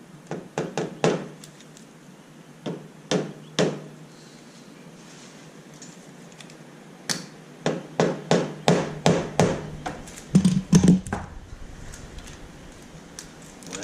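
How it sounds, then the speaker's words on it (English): Dull, thudding rubber hammer blows on a Honda CB125E motorcycle engine part land irregularly at first, then in a quicker run of evenly spaced knocks, close and moderately loud. "Okay, note, rubber hammer."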